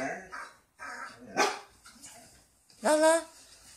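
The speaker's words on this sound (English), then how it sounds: "Here's a dog, Lala." German Shepherd dog giving a couple of sharp, close barks separated by short pauses, with quieter sounds between them.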